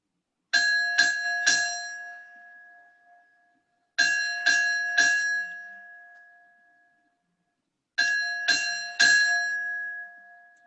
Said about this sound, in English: the bell tolls one last time for Robert Van Dinter, Sr.